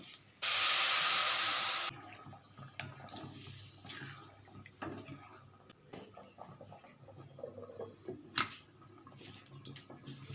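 Water poured into a hot pan of cooking semolina upma bursts into a loud, steady hiss of steam for about a second and a half, then settles into quieter bubbling, ticking and occasional clinks.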